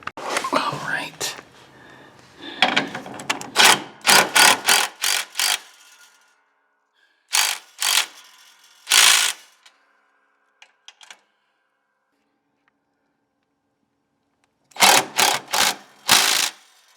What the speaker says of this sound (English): we'll get the impact and tighten those up right there